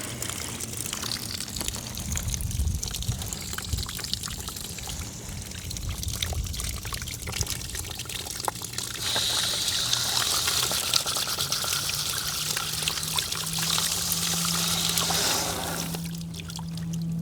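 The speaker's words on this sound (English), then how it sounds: "There's still water leaking out of the top." Water streams and gushes out of the top of a drip irrigation fitting under partial pressure, a steady close rush that swells louder near the middle and continues without pause, with no talking.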